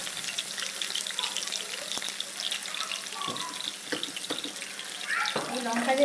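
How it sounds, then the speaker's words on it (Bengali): Water tipped from a small bowl used for ground chilli paste into a pan of Bengali rohu fish curry, a soft pouring splash over steady background hiss and faint kitchen sizzle, with brief clatter. "এই লঙ্কা যে বেটেছিলাম ওই বাটিটা দিয়ে জল দিয়ে দিলাম"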